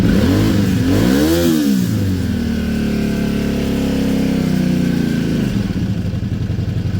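A motorcycle engine running a little rich after the choke is taken off, loud and close, with a quick throttle blip and rev near the start that settles into a steady, slightly uneven idle.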